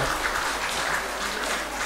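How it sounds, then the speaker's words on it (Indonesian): A brief burst of dense, even applause from a congregation in the St. Yosep Ohoijang parish church during a first Mass, steady and close, with no voices rising above it. "Tepuk tangan dong, tepuk tangan"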